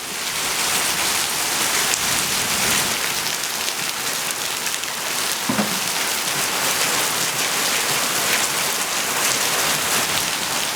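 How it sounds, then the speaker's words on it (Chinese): Heavy rain pours down in a loud, steady, continuous hiss, drumming on surfaces with no break and no voices. "这雨水太大了。"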